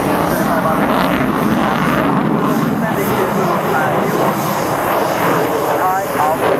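Aircraft flying an aerobatic half-manoeuvre climbing to high altitude at the Fairford airshow, a loud sustained engine roar with shifting tone, while a commentator talks over it.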